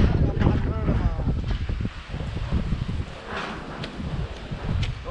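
Strong gale-force wind of a six-to-seven-level storm buffeting the microphone outdoors near a damaged makeshift house, gusty roaring and rustling throughout while people talk over it.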